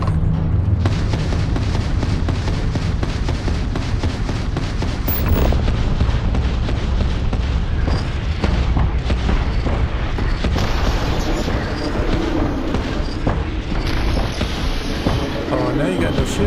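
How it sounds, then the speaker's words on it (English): Heavy sci-fi gunfire and booming blasts in Starfield pound continuously at high volume, dense and overlapping, with voices chatting over the combat. "Stop shooting me."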